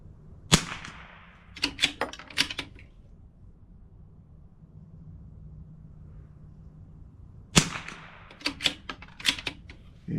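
Two bursts of sharp CZ 457 rifle shots, each a loud crack followed by a quick run of four or five closer echoing cracks, separated by a long quiet gap with low background hum.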